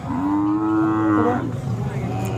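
A Khillar cow at a cattle market in Pandharpur gives one long, loud moo up close, then it trails off into the low murmur of the market.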